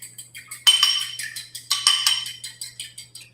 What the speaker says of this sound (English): So we'll give this a little whisk.